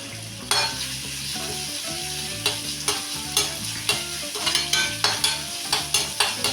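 Finely chopped onion, green chilli and curry leaves frying in a pan, a steady loud sizzle with regular scraping strokes of a spatula close by, no speech.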